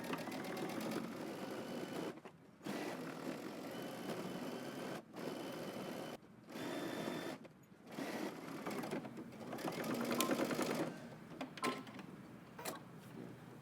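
A sewing machine stitches a 5/8 inch seam across the top of a pair of pants in close, fairly quiet bursts separated by short pauses, including backstitching at the start and end.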